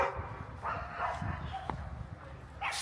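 A neighbor's dog barks in a snowy Canadian neighborhood, giving a few short yips and woofs at moderate distance over outdoor background noise.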